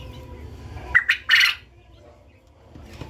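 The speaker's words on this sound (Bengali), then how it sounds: "এর ছেলে পাখিটা অনেক ডাকে" A male quail kept on a home balcony calls loudly in a quick burst of two sharp squawks and a longer harsh note, close and clear over quiet room background.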